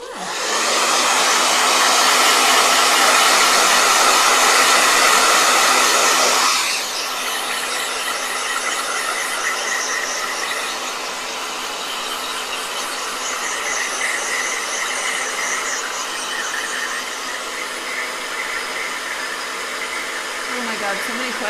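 A blow dryer runs loudly and close for about seven seconds, then its roar drops to a lower, steady whoosh that continues to the end.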